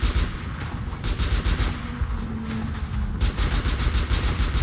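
Rapid, dense gunfire from a weapon in the Metro Last Light video game rattles on steadily and loudly for several seconds, with bursts briefly dipping midway before resuming at full force.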